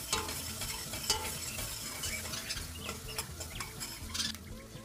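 Tomato paste sautéing in a pot for soup, with a steady sizzle and frequent spoon stirring and scraping against the metal. No one talks.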